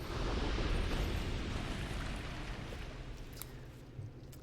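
An explosion in the video game Dark Souls 2 bursts loudly at the start and rolls into a rumbling decay that slowly fades, with a few faint clicks near the end.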